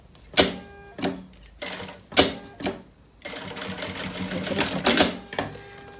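A sewing machine stitches around the edge of a backpack in short, loud bursts of rapid clattering, stopping and restarting several times before a longer continuous run, with a voice speaking briefly between bursts.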